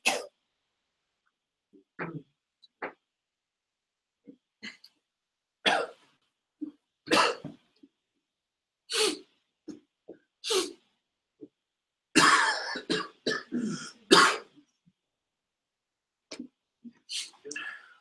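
A series of dry coughs and throat clearings, some single and some in short bursts, spaced out with quiet gaps between them.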